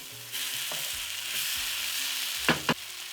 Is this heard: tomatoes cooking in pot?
yes